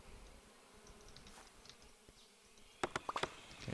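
Bees buzz in a soft, steady drone around beehives in the beekeeping video game APICO, with a quick run of sharp clicks near the end.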